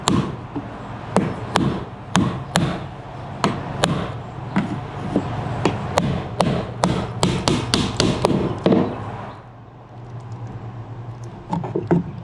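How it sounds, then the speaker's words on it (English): Repeated sharp metallic demolition hammer blows striking a demo chisel on a boat, a dozen or so evenly spaced hits close by, pausing briefly before a few final strikes. "Get the demo hammer, demo chisel."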